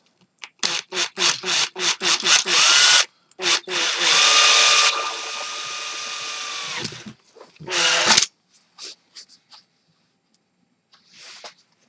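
A power drill bores two holes in a home-made project box for a switch and a potentiometer, with a burst of short stuttering pulses, then a long steady whine and a final short burst, followed by quiet handling noises.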